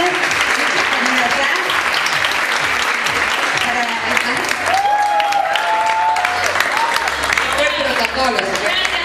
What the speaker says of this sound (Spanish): un aplauso grande para ellas